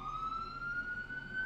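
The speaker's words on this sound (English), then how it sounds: "Sorry about the sirens." A New York City street emergency-vehicle siren wails steadily and fairly loud, a single sustained tone slowly rising in pitch throughout, with traffic rumble underneath and no talk.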